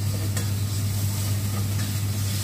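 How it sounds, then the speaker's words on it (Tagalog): Shrimp paste sautéing with garlic and onion in a pan gives a constant, close, loud sizzle and stir-scrape over a low steady hum, with no voices. "Gisa siya, bawang at sibuyas yung ating bagoong."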